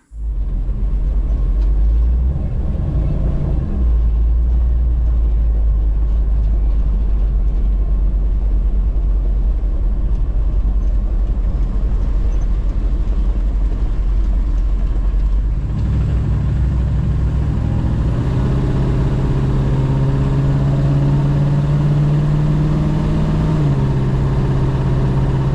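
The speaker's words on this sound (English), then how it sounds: "But I'd like to take it for a test drive as it is." A Jeep Wagoneer with a wobble problem on a test drive, its engine giving a loud, steady low rumble throughout, shifting to a different droning pitch partway through as road speed changes.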